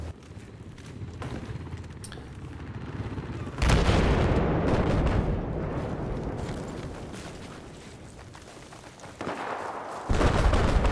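Heavy booming blasts of tank fire in Battlefield 4 during an 8v8 match, a loud cannon crack near four seconds followed by rumbling battle noise, with another sharp burst near the end.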